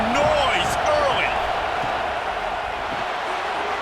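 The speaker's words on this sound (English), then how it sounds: "This crowd bringing the energy and noise early." Stadium crowd in the College Football 26 game at LSU versus Texas, a dense, steady roar of many voices with whistles and chants, continuous and loud from start to finish.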